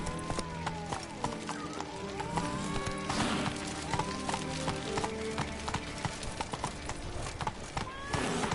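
A horse gallops in The Witcher 3, a steady run of hoof clip-clops with a faint whinny and game ambience, and brief voices on top.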